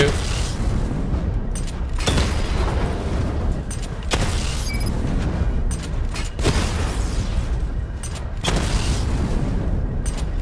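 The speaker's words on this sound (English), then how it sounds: "Charge the missile barrage to level 2 to destroy up to 4 targets at once." Batmobile missile barrage in Batman: Arkham Knight, a series of loud, heavy booming blasts spaced about two seconds apart over a continuous rumble.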